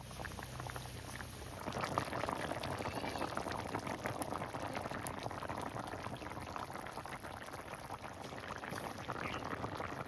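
A pot of farmed paira chanda fish curry boils with a continuous bubbling rumble that grows fuller after the first couple of seconds, close and steady, with no speech.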